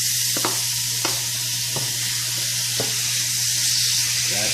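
Chicken frying in a pan, a steady close sizzle with a few faint clicks and stirring scrapes, no talking.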